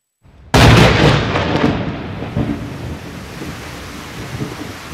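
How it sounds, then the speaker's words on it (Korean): Thunder effect in a Korean historical radio drama: a sudden loud crack right after a brief quiet start, then a long rolling rumble with lighter aftershocks fading slowly, heard alone with no talk. "뇌성이 크게 울리고 번개가 번쩍이면서 우박이 내렸으며"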